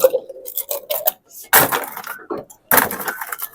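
Ice cubes dropped into a glass for a gin cocktail, clattering and clinking sharply up close in a few loud bursts with brief pauses between them.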